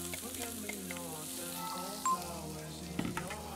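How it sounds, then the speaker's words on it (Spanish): Garlic and onion sauté in a pan with a steady, moderate sizzle and occasional stirring clinks, and a brief sharp tone cuts in partway through. "voy a sofreír ajito"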